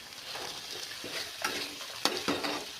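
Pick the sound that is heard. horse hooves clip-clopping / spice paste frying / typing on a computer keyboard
spice paste frying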